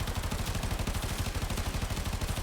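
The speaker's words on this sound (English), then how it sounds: "the Tenora, it's a machine gun" Rapid automatic fire from the Tenora machine gun in a video game, a continuous rhythmic stream of closely spaced shots with steady, moderately quiet volume throughout.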